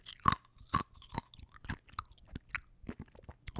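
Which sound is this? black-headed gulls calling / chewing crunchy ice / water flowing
chewing crunchy ice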